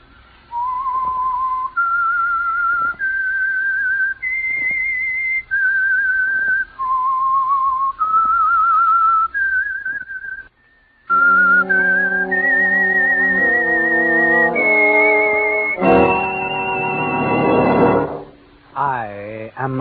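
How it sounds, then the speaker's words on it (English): A whistled theme for The Whistler radio drama: a lone whistler traces a slow rising-and-falling melody of sustained notes, loud and close, before an orchestra swells in behind and takes over the tune. "That whistle is your signal for the Signal Oil program"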